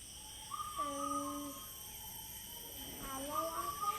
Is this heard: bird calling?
yes